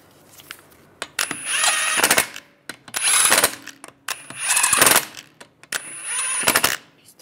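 Lug bolts on a 1998–2010 Volkswagen Beetle wheel are tightened with a ratchet in four bursts of rapid clicking, each lasting about a second, close and fairly loud, with short pauses between them.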